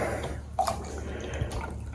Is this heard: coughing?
no